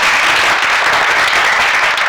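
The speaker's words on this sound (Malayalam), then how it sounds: "എല്ലാവരും ഒന്ന് കൈയടിച്ച്." Audience applause at a public event, a dense steady wash of many hands clapping that stays loud and even across the whole short stretch with no voices standing out.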